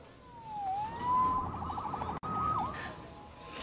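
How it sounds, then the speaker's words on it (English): A police siren in the video game Spider-Man Remastered wails up and down in long sweeping tones, loud and close, with a brief cut in the middle before the wail resumes. "Saved by the siren."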